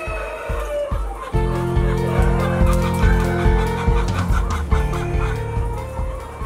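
Bau-Bro coloured broiler chickens on a farm, clucking loudly and repeatedly in a rhythmic chorus, close by.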